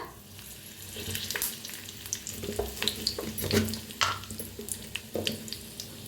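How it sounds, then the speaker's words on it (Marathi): Dried red chilies and curry leaves crackle and sizzle in hot oil, a steady close frying hiss with sharp pops scattered throughout, no talk over it. "टाकायचे बघा सुक्या 2 मिरच्या, कढीपत्ता"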